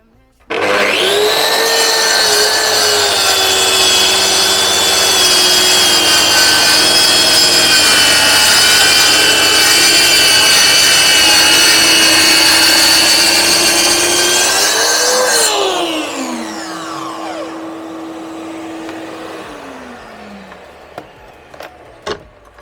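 A Mafell MT55 plunge saw with a 32-tooth blade, cutting wood: loud, steady whining motor and blade roar runs continuously for about fifteen seconds, then the blade spins down with a falling pitch and the clip tails off into quiet with a few small knocks.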